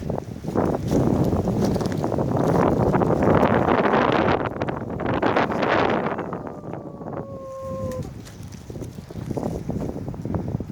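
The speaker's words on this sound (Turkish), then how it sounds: "Çok fena rüzgar çıktı." Strong storm wind gusts and roars outdoors during an autumn village walk in Bartın's Ulus countryside, a loud, continuous rush that swells and eases, buffeting the microphone with no talking.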